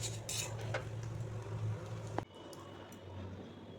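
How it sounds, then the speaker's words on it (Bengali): A spoon scrapes and scoops a lightly fried vegetarian filling into spiny gourd (kakrol), with soft clinks and a sharp click near the end over a steady low kitchen hum. "চামচ দিয়ে আমি এই পুরটাকে ভরে নিচ্ছি।"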